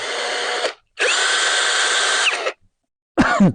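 A cordless screwdriver drill whirs in loud steady bursts, running about two seconds, pausing, then starting again briefly, close up with no talking.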